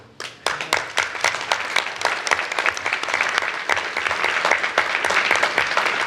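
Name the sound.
audience applause at a plenary session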